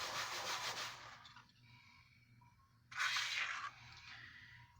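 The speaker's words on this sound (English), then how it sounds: "I'm just going to rub it around some and clean up the excess on the mat" Glue being rubbed around on a paper card over a craft mat, heard as two bursts of soft, dry, close-up rubbing and scraping strokes separated by a quieter pause, with no talking.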